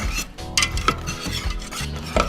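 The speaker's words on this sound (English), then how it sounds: "just keep mixing until it goes to like a bubble" A spoon stirs a thick milk mixture in a pot on the stove, producing repeated clinking and scraping against the metal with soft bubbling sizzle underneath, close and steady.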